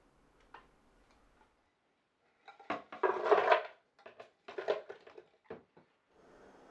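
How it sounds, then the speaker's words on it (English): A Vitamix blender lid gets pressed and snapped onto the plastic container, a few short plastic clicks and rustling knocks, close and fairly quiet, with silence around them. "I'm going to snap my lid in place"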